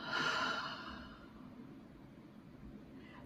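A deep breath out through an open mouth during a gentle yoga session, one soft, breathy exhale that fades over about a second, close and quiet, followed by near silence.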